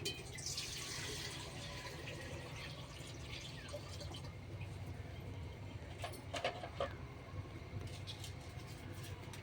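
A quiet, steady stream of water runs into a pot, filling continuously under a low background hum, with a few faint clinks near the end.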